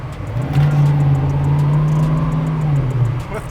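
A Ford Mustang Mach 1 V8 revs up into a loud, sustained roar held for about two and a half seconds, then drops back toward idle, close up and heard alone.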